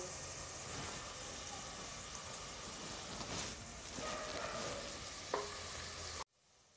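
Vegetables frying in a pan for pulao, a continuous low sizzle with stirring scrapes and one sharp clink near the end before it cuts out abruptly, no voices.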